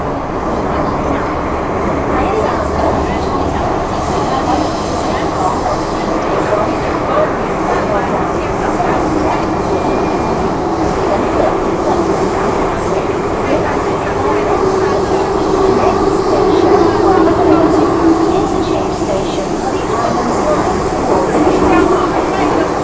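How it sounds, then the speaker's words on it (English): An M-train metro rumbles steadily into a station, a continuous low roar with rattling wheels and a faint squeal near the end, voices murmuring beneath. "the freaking M train just drove in here"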